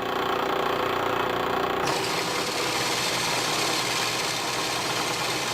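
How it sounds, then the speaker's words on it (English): An electric motor on a 1997 Coyote skate braking test rig drives the wheels against a brake drum, a loud continuous whirring drone whose pitch drops and roughens as the wheels engage partway through. "now we'll go ahead and engage the wheels against the brake drum"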